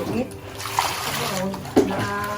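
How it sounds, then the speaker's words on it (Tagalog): Peeled cassava is washed by hand in a basin of water, producing soft sloshing and swishing with a couple of small splashes, heard under people talking nearby. "So ayan guys, bali hinuhugasan na yung kamoteng kahoy."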